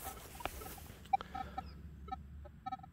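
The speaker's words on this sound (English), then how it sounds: "Now listen to that detector chirping away there." Short, high-pitched electronic chirps from a Minelab Equinox 800 metal detector fitted with a 15-inch coil, sounding in quick irregular bursts against interference and faint outdoor background while swinging over ground.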